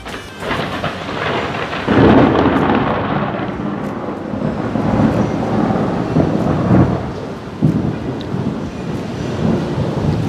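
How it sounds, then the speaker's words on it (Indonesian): Loud thunder rolls and rumbles through a heavy rainstorm, with rain hissing steadily underneath and gusts of wind buffeting the microphone; no one speaks. "aku takut petir guys"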